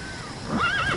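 D-Horse, the horse from the Metal Gear Solid V game, gives a whinnying neigh in the second half of the clip, rising over steady background ambience at moderate loudness.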